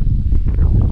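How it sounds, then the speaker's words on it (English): Strong wind buffets the microphone in a rural Bulgarian village, a loud, low, continuous roar with gusty swells across a single second. "it's a windy one, very windy today"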